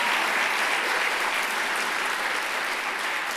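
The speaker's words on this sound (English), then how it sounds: "now you can clap for this" Steady, even clapping from an audience at a Founders' Day 2025 gathering honoring Octavia E. Butler, filling a few seconds without any voices.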